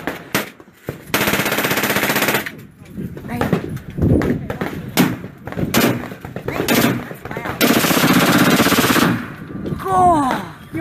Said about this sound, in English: Everybody's waiting in line to shoot these big guns.